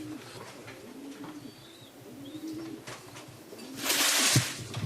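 Soft cooing of racing pigeons with faint wing flutters, rising into a louder rush of flapping near the end as birds land on a loft roof.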